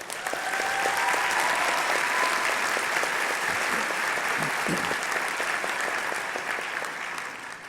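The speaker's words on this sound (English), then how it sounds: "Let's give them a round of applause." Sustained audience applause at a Humber College convocation ceremony, a dense steady wash of many hands clapping that holds loud and even for the whole stretch, with no voices rising above it.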